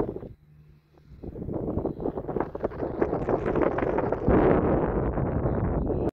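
Steady wind buffets the microphone on an open links golf course at Kirkistown Castle, a broad continuous rushing roar that swells and stays loud throughout.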